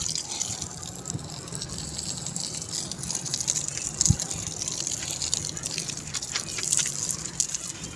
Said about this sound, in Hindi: इंटो को पानी वगैरह दे दिया